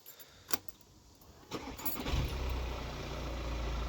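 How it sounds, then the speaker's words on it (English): A Seat Alhambra diesel engine, fresh from a glow plug change, cranks after a couple of sharp clicks and catches into a low, steady idle rumble close by. "We have a car that starts."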